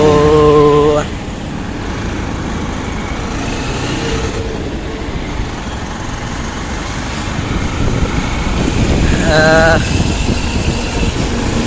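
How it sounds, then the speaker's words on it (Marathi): Road traffic rumbles steadily along the Mumbai–Gujarat highway, where large commercial trucks pass. A continuous engine and tyre drone with idling vehicles lasts throughout, and a horn sounds near the start and again near the end. "मोठे मोठे कमर्शियल ट्रक जातात"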